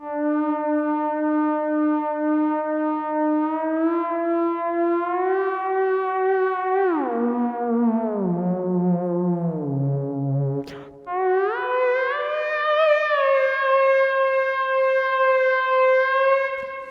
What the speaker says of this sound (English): it's basically going to sound like my theremin tone is being modulated by this LFO.